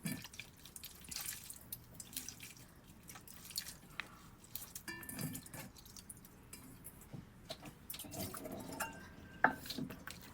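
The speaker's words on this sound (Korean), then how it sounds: "찬물에 헹군 얼갈이를 손으로 물기를 꽉 짜주세요" Rinsed eolgari cabbage squeezed by hand in a kitchen, with faint wet squishing and dripping water, soft and close, along with small scattered clinks from bowls and utensils.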